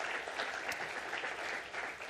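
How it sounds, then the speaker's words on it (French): Audience applause at a talk for Camille after her presentation on a producers' project, a continuous even patter of many hands, fairly quiet and distant, with no talking over it. "on peut l'applaudir effectivement"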